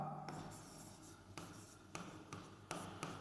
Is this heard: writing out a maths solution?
yes